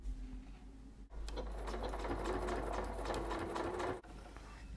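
A sewing machine stitches seams for a single welt pocket, starting abruptly and running about three seconds in a rapid, steady mechanical whir before stopping, close and alone.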